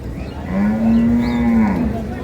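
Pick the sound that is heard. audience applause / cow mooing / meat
cow mooing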